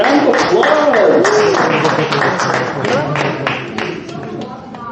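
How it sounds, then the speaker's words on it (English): An audience at a pre-Passover inspirational event in Brooklyn claps in a dense patter that fades over a few seconds, mixed with whoops and cheering voices. "Round of applause."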